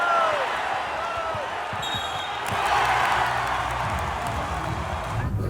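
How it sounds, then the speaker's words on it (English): A crowd in an arena roars and cheers during a high school wrestling match, a loud, sustained wash of noise with a few sharp thuds from the mat. "it's loud, you got people cheering, like just the energy overall with teammates and the crowd is just, it's unreal"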